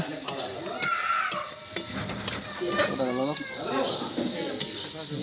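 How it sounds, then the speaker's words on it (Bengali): Meat masala frying in a pot over a wood fire on a village clay stove, with steady sizzling and repeated metallic scrapes and taps of stirring, close up, while people talk nearby. "মাংসের মশলা কষা হচ্ছে, দেখো বন্ধুরা।"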